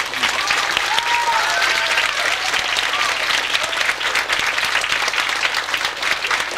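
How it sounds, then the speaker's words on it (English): A graduating elementary school class applauds their parents at a 2005 ceremony, a loud, dense round of clapping that holds steady throughout, with a faint hint of a crowd behind it. "Face your parents and give them a big round of applause"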